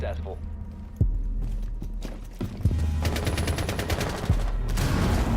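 Rainbow Six Siege gunfire: a few single loud shots, then a fast automatic burst that rattles on for more than a second, set against in-game clatter while someone talks.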